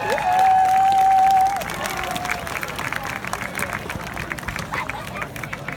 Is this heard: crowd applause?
yes